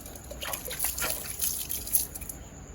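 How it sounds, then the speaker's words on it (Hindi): Water runs from a household tap in a home kitchen, a steady close trickle and splash with irregular dribbling bursts and no talk over it. "टूटी बंद कर दो, फिलहाल पानी बह रहा है।"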